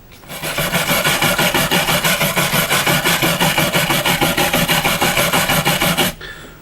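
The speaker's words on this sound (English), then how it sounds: "we'll try a wire brush on it first, shall we?" Wire brush scrubbing rust and dirt off an old metal measuring implement, rapid rhythmic rasping strokes, loud and close, stopping abruptly near the end.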